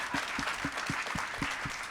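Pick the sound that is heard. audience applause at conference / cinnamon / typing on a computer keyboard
audience applause at conference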